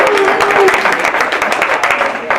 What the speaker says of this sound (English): Big round of applause once again for Pam Coder, the tenor.